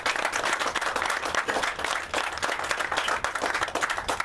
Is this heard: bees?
no